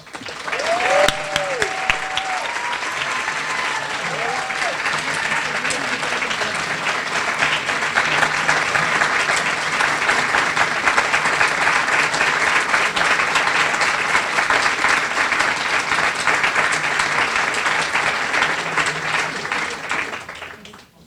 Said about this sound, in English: More applause, please, as I come up to the microphone.